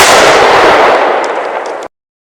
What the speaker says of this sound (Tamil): ஒரு ஃபிராக்ஷன் ஆஃப் செகண்ட்ல ஒரு பெரிய குண்டு சத்தம்